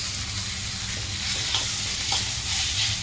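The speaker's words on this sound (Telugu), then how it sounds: "ఇప్పుడు ఇంకా ఫైనల్ టచ్ మనం బాయిల్ చేసుకున్న నూడిల్స్ వేసేద్దాం." Boiled noodles for egg Maggi tossed into a hot pan of masala, a continuous close sizzle of frying with scraping stirs rising and falling.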